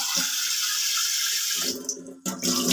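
Soaked chickpeas being washed in water, a steady run of splashing and pouring close by that briefly cuts out and then resumes.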